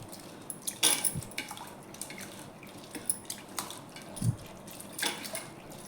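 Lentils and rice being rinsed in water for daal bhat, with soft close splashes and drips, light sloshing and an occasional knock of the vessel over a faint background hiss.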